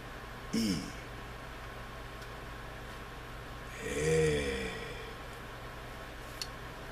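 Two short nasal sniffs, a quick one early and a longer, drawn-out snort a few seconds later, over a faint steady hiss.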